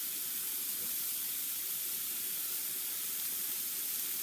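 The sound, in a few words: cumin toasting in a hot pan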